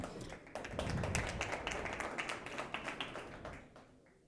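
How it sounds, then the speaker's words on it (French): Audience at a business event in Morocco claps as the president of Rocket Science is invited onto the stage; a fairly distant, faint patter of many hands builds and then gradually fades. "les applaudissements sont nombreux"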